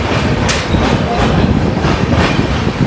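A passenger train from Howrah runs at speed near Bardhaman Junction, with a loud, continuous rumble and rhythmic clickety-clack of wheels heard up close, with faint background voices.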